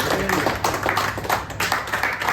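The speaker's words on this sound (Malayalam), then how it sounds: "എല്ലാവരും ഒന്ന് ക്ലാപ്പ് ചെയ്ത് കഴിഞ്ഞാൽ ഓക്കെ" People clapping at a prize draw event, a quick run of uneven hand claps in bursts, fairly close and moderately loud, with a faint hum underneath.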